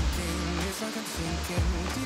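Ssanggok Waterfall in Goesan, South Korea, pours with a loud, continuous broadband rush that stays steady throughout, with no voices.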